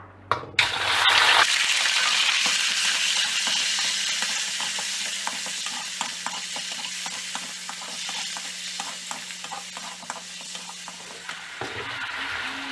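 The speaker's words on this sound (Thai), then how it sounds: "พอน้ำมันร้อนก็นำหมูลงไปผัดเลยค่ะ" Pork belly pieces drop into hot vegetable oil in a pan and burst into a loud, steady sizzle. The sizzle dies down gradually, with faint stirring clicks, before a final clatter.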